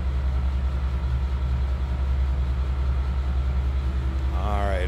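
A 1953 Ford Crestline Victoria engine idles close by, a steady, even low rumble that runs unbroken throughout.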